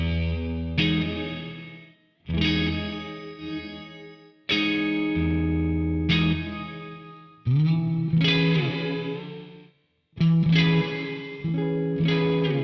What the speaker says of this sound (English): This is for getting wacky, ambient, spacey reverb sounds.